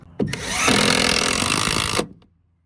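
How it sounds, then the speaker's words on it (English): A power drill drives stainless steel screws into a wooden jon boat transom board, one loud continuous whirring burst of about two seconds with a brief start, then spinning down to silence. "So I have decided just to come in here with stainless steel screws and just put a bunch of screws in it"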